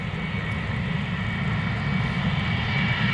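A KLM airliner departing Amsterdam Schiphol gives a steady, deep engine rumble, heavy in the low end, continuous and fairly close, with no voices.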